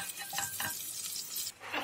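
Butter and refined oil sizzle softly in a hot pan as a utensil stirs and scrapes through them, close and fairly quiet.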